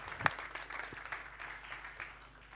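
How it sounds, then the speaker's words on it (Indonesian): Congregation applause during a church service, a burst of clapping that starts with a sharp crack and then settles into a steady, moderate patter in a reverberant hall. "Kita beri tepuk tangan dulu sekali lagi buat Tuhan"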